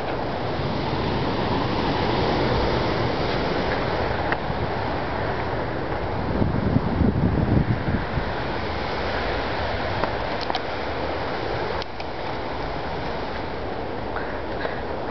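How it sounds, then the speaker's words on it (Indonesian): Frightening ocean waves crashing at a beach cliff at Gesing beach, a continuous loud roar of surf mixed with heavy wind buffeting the microphone, swelling in the middle. "Ombaknya menakutkan sekali."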